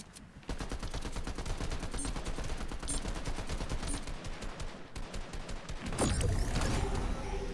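Rapid automatic gunfire in the Fortnite video game, a dense stream of close, loud shots in steady bursts with brief pauses, ending in heavier, booming reports.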